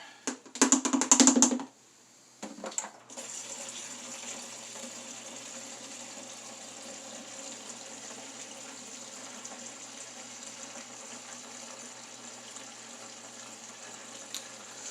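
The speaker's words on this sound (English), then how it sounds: "And then I kind of just add water as I go" Water running steadily into a container while mixing three quarts of stevia-sweetened cherry Kool-Aid, a continuous hiss of filling that begins after a couple of brief clatters and carries on evenly, close and moderately loud, with no talking.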